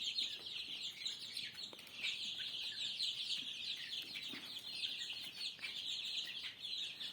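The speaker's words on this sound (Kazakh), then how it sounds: "Мына жақта балапандар, тауықтың балапандары." A brood of young chicks, chicken and turkey, peep in a dense, continuous chorus at a farm; the high chattering is steady and fairly faint, with no voices.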